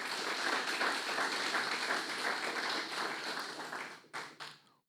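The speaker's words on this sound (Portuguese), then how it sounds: "Você pode aplaudir o Senhor por essa palavra?" A church congregation applauds together, a dense, steady wash of clapping that rises and then fades unevenly near the end, leaving a few scattered claps.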